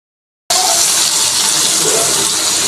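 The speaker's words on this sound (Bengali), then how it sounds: "সবজিগুলো এখন আমি ধুয়ে নেব" Running water rinses freshly cut vegetables and radish greens in a kitchen, a steady loud continuous gush that starts abruptly after a brief silence and carries on alone.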